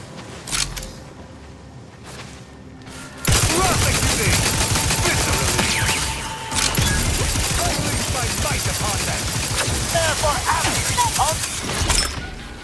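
The chain spark cannon, a shock weapon in the video game The Outer Worlds 2, fires against auto mechs as a loud, dense, continuous crackling barrage that starts abruptly after a quieter opening and runs for about nine seconds.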